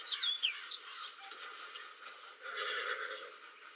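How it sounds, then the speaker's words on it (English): A large horse neighs and whinnies outdoors, with a couple of high calls near the start, then hoof clip-clops and faint bird chirps follow at moderate distance. "Big ass horse."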